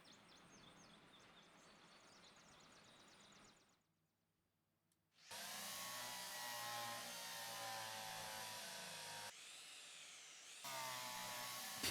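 A drill runs in the Derail Valley train game as a loud, steady whirring whine that stops briefly and then starts again, continuing with slight shifts in pitch and no voices.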